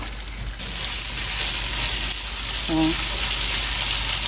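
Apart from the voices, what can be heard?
oil sizzling in pan for Korean stir fry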